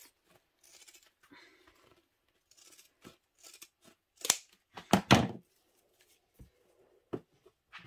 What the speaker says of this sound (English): we now cut the seam allowance down to what it says in the pattern. Pinking shears just help on the corners.